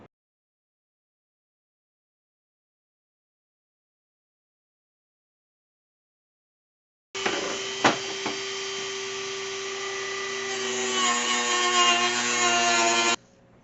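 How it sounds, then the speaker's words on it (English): Dremel rotary tool cutting into a car dash panel, a steady high-pitched whine starting about halfway through after silence, with a sharp click near its onset and the pitch rising slightly as it runs on alone for several seconds. "Got my Dremel."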